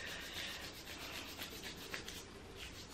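A wax strip is rubbed firmly back and forth over a man's leg during a waxing challenge, giving a steady, close, scratchy friction sound that runs continuously with small swells.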